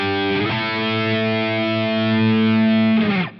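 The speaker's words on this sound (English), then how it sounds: "I play all the chords with a downward pick and make a wide movement" Distorted electric guitar chords hit with aggressive downstrokes: one chord strikes and rings out in a long, saturated sustain, then a second chord change near the end, loud and alone.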